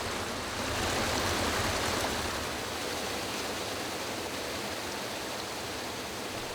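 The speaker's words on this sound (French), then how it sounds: "Passant de multiples écluses ou créant de petites cascades." Schwarzbach stream in a winter forest flowing through small cascades and locks, a steady broadband rush of running water with no voices.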